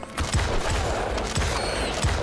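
Gunfire in the video game Starship Troopers Extermination, a rapid run of sharp bursts repeating through the clip with little pause, loud and close.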